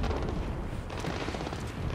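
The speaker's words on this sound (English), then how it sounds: "Triggered explosions." Explosions triggered in the stealth video game Splinter Cell Blacklist, a dense continuous rumbling roar of blasts and debris that stays loud and steady throughout with no talking.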